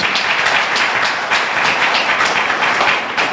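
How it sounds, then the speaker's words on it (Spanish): A church congregation applauds during a sermon, dense, loud and sustained clapping that fills the whole room without a break. "Denle un fuerte aplauso al Señor."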